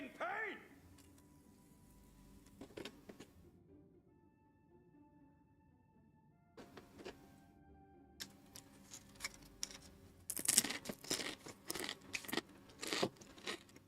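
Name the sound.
loud chewing and crunching into the microphone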